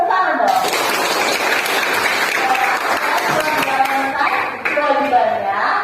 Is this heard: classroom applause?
yes